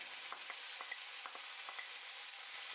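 Onions and tomatoes frying in a pan for a paneer peas masala, with a spoon stirring them in soft, scattered scrapes and taps over a steady, gentle sizzle, close and quiet.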